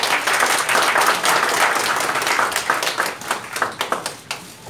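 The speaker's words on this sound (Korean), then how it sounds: "자, 박수로 모시겠습니다." An audience at an indoor press conference applauds to welcome a speaker, a dense, even burst of clapping from many hands that thins out into scattered claps near the end.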